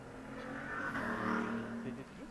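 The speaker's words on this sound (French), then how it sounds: "j'ai tous les moteurs de la ville là qui passent?" Car engines pass by in a video game war battle, a steady rising and falling motor drone with a faint revving tone, while someone talks over it.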